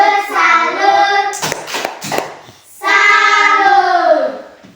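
In an early-grade elementary classroom, children chant the Indonesian 'tepuk salut' clap chant in unison, then break into a quick burst of rhythmic hand clapping before the group chant resumes, all close and loud.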